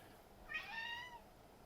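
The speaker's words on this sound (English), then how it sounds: "that's our cat. She makes really funky noises." A single cat meows once, a short wavering call lasting under a second, close by against quiet background.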